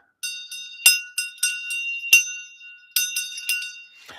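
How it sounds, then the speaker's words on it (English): A Tibetan shang bell in a Chod meditation setting gives several bright, ringing metallic strikes in an irregular rhythm, each with a clear shimmering tone that lingers and decays. The strikes are close and fairly loud, and no voices are heard. "the shang bell"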